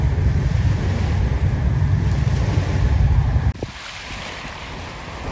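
Ocean waves wash onto a beach in a steady roar mixed with heavy wind buffeting the microphone, which cuts out abruptly partway through and leaves a quieter surf wash.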